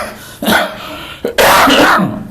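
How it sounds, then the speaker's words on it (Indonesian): A man coughs and clears his throat twice during a religious lecture, a short rough burst followed by a louder, longer hacking cough, alone with no talk over it. "Agak batuk Ustaz sedikit."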